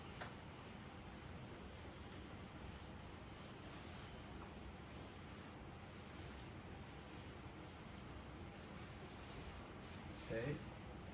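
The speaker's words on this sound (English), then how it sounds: "So we'll be erasing this now." A blackboard eraser rubs steadily across a classroom blackboard, a continuous dry scrubbing hiss with no pauses that lasts throughout, close and fairly quiet, with a faint brief knock near the end.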